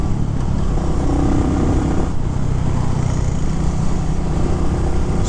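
A 2023 Royal Enfield Classic 350 single-cylinder motorcycle on the move gives a loud, steady engine drone with rushing road and wind noise throughout, holding an even pitch while riding.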